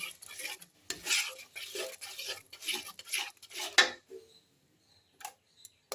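A spoon stirs spiced chicken in a pan with rhythmic scraping and clinking strokes over a light sizzle for about four seconds, then near silence with a few faint taps.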